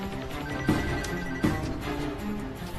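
A telephone rings steadily in an electronic warble, with two brief clicks or knocks over it, fairly close, in a dubbed American action film.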